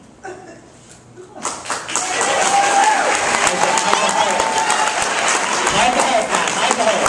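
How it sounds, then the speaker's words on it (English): Audience applause for a magic trick at a comedy magic show: quiet at first, then a burst of loud, dense clapping from a crowd, with some laughter and a little talk mixed in. "Pat's going to get a completely spontaneous, thunderous round of applause."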